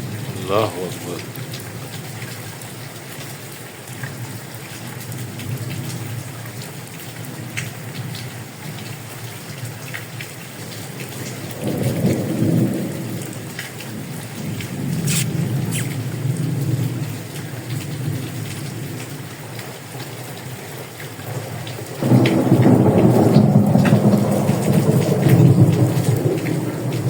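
Heavy rain falls steadily in Faisalabad with rolling thunder, the rumbles swelling in deep, loud waves, including a long heavy roll near the end, while a voice speaks faintly now and then.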